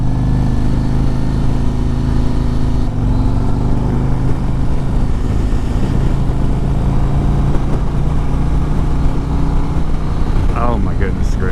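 A 2024 Harley-Davidson Road Glide with the 117 engine runs steadily while riding, a loud continuous low rumble with mild rising revs near the end, carrying wind noise throughout.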